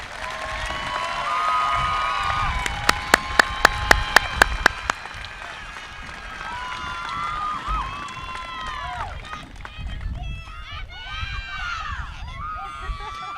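A crowd at a high school commencement applauds and cheers, with a few sharp whoops and whistles over the clapping, which gradually thins while voices and chatter continue.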